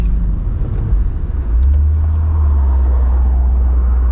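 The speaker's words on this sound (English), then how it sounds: "kill the sound of the intake" Mercedes-AMG GT 63 S 4-door coupe with its 630 hp engine, a deep low rumble swelling through the intake about halfway in and holding steady, heard from inside the car.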